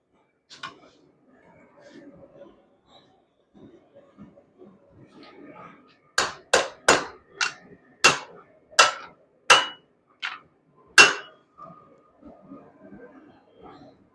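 Light hammer taps ring out while forging a Viking Age sword: a quick run of about nine crisp, close strikes in an uneven rhythm, with quiet shuffling and faint background sounds before and after.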